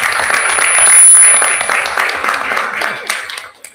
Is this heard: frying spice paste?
no